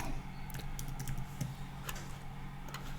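Words being typed on a computer keyboard at a quiet desk, a handful of light, irregular key taps spread over a few seconds against a low room hum.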